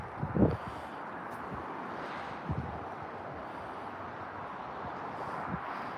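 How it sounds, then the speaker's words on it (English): Wind gusting outdoors on a snowy bike and snowmobile trail, a steady broadband rush with a few louder buffeting bumps against the microphone, no talking. "It's windy."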